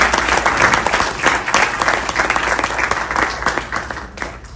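Audience applause at a Pakistan American Congress community gathering in Sugar Land, Texas, a dense, even crowd clapping heard up close and continuing steadily throughout.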